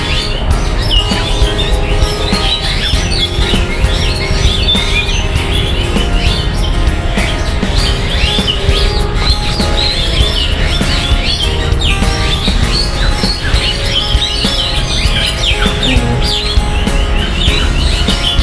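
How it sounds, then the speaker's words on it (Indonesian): Bali starlings chirp and whistle steadily inside an enclosure at Surabaya zoo, a busy chorus of sharp calls over dense, loud crowd and ambient noise. "Jalak Bali, curik Bali."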